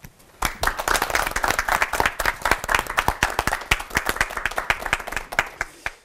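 A studio audience at a televised sermon program claps for three pastors, starting suddenly after a quiet moment, with sharp, separate hand claps building into brisk, fairly close applause that holds steady.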